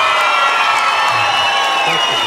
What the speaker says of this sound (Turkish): Onun için sizden kocaman bir alkış istiyorum.